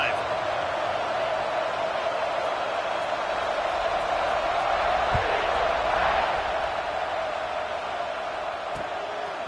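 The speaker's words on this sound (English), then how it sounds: "this crowd is feeling themselves after that last drive" Steady, loud roar of a stadium crowd in a college football video game at Auburn during a kickoff, a broad wash of cheering that holds for the whole stretch with a few brief thumps and shouts rising out of it.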